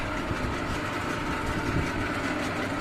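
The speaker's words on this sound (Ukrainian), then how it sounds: "Більше не треба, бо мотор буде в нагрузку йти." Electric motor of a feed mill grinding starter feed for piglets runs steadily at close range, a continuous dense mechanical drone with a rough rumbling texture and no voices.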